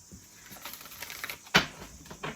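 Tarot cards shuffled by hand in a quiet room, soft papery riffling and tapping with one sharp slap of the deck near the end.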